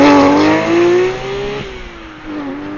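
Porsche 991 GT3 with a PDK gearbox, engine revving loudly, a high rising wail that drops back at a gear change and climbs again, then fades, heard alone and close.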